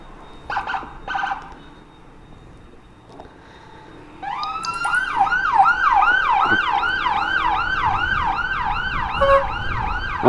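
An ambulance siren wails in fast, repeating rising-falling sweeps as a Bandung ambulance is escorted through traffic; it starts abruptly and stays loud and close, preceded by a few short horn-like bursts and faint background noise.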